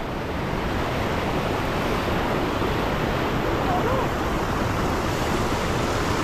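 Strong river current rushing steadily on the way up a river toward a waterfall, a dense, continuous roar of water that stays loud and unbroken throughout, with no voices.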